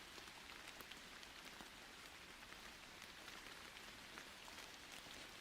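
Steady rain on a surface, a soft, even patter of many small drops with no pauses, faint and continuous throughout, with no voices.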